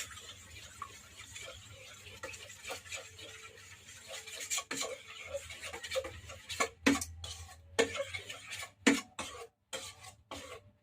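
A spoon works through creamy macaroni chicken salad in a bowl with soft scraping and stirring. Sharper clinks and knocks against the bowl follow, irregular and close, growing busier in the second half.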